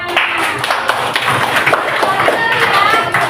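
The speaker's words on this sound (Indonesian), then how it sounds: "Ya, boleh tepuk tangannya." A group of students in a classroom guidance session claps together, a fairly close patter of many hands with scattered taps and thumps, mixed with voices talking over it.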